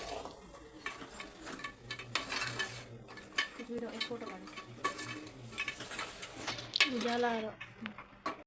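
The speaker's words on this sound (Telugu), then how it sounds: "వేసుకొని మంచిగా కలుపుకుందాం" A spoon stirs and scrapes coriander powder into a goat leg curry in a pot, with soft clinks and scraping over a faint sizzle, while someone talks.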